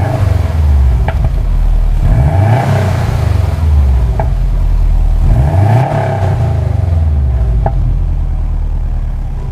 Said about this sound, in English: I'll give it just a couple revs here.